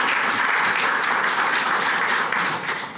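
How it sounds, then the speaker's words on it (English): An audience at a judicial district candidates forum breaks into steady, dense applause, many hands clapping together at close range, fading slightly at the end. "And you can applaud now."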